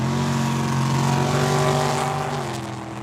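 A BMW and a dragster racing side by side down a drag strip at Tucson Dragway, engines roaring loud with rising harmonic pitch, peaking mid-run and then fading as the cars pull away.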